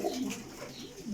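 A pigeon coos close by, with low rolling phrases that rise and fall over a quiet backdrop.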